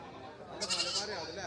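A Malabari goat at a livestock market gives a short bleat partway through, heard under a man's speech and surrounding crowd noise.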